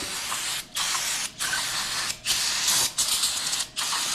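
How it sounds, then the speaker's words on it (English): Cleaner sprayed onto surface-rusted piston rings from a 1930 Ford Model A, in four or five close, loud hissing bursts of about half a second to a second each, separated by brief pauses. "We're just going to spray them down, get up, wiping that off there."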